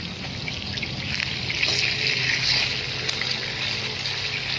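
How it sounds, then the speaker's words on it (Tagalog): Pork pieces simmer in a pan in their own rendered fat, the water cooked off, giving a steady dense crackle and hiss of spattering grease, close and continuous. "Medyo tumatalsik na siya."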